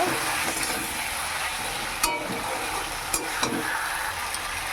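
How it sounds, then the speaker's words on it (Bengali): Spice masala with salt and turmeric frying in a pan, giving a steady loud sizzle throughout with a few brief clinks of stirring. "মশলাটা কষছে একটু এদিকে"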